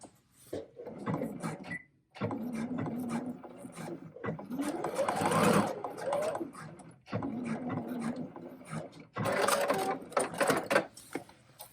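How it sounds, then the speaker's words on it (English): Stitching a straight line on men's slacks, a sewing machine whirs in several rapid bursts separated by short stops, its needle rattle loud and near, with no talking. "I'm going to go to the right of it a little bit here and just stitch a line"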